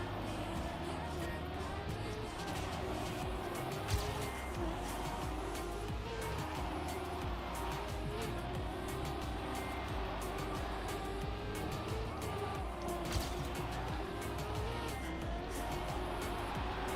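A car in the Trackmania racing game drives steadily with a continuous engine drone and road noise, unbroken throughout and fairly constant in loudness.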